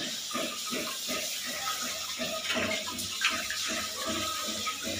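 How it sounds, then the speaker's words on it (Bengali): Water running and splashing while goat meat is washed, a continuous gushing flow with irregular splashes and clatter, with people talking faintly in the background. "এইখানে খাসি ধোয়া হচ্ছে।"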